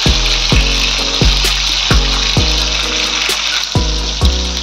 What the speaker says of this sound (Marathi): बऱ्यापैकी आपली फिश फ्राय होत आलेली आहे